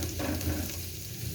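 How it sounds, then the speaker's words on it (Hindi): Garlic and bell peppers sautéing in a hot pan, a steady close sizzle and frying hiss with faint stirring, no voices. "अब इसके अंदर सब मिर्च ऐड करेंगे और सब मिर्च को भी हल्का सा पका लेंगे"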